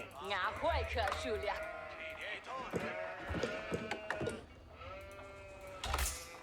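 Sheep bleating in Age of Empires IV, several wavering calls in a row at moderate volume, with someone talking over them.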